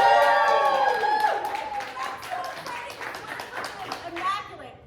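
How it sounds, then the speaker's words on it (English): A crowd at a cooking event with guest chef Ned Bell cheers and claps, voices whooping loudly at first and then settling into scattered clapping and chatter. "How about another cheer?"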